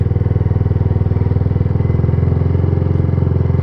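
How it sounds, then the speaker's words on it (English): A motorcycle engine thrums close and loud in a steady low pulsing beat, rising slightly as it pulls away gently on a little throttle while the clutch is eased out. "All I want you to do is to add a tiny bit of throttle and gradually let out the clutch."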